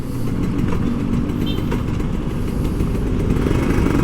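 A loud, rumbling Kawasaki Ninja RR 150 two-stroke sport motorcycle engine runs steadily up close, with a rough, continuous drone and no clear pitch changes.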